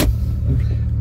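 A Jeep XJ drives along with a low, steady engine rumble and throb heard from inside the vehicle, loud and continuous for a brief moment with no talking.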